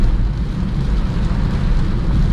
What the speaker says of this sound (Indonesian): Kondisi hujanannya agak deras ya